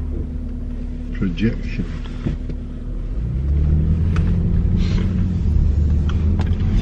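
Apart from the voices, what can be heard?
car passing by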